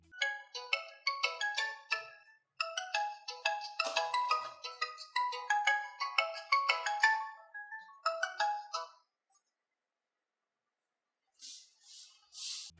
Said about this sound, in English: when you get a call, you can flip your phone to silence the ringer